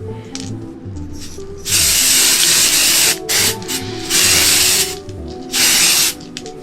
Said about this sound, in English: Spray glitter in silver.